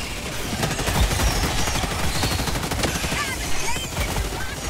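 Autocannon fire in the co-op shooter Helldivers 2, a dense, loud barrage of heavy rapid shots in quick rhythm with other gunfire and bug-fight noise mixed in, a voice talking briefly.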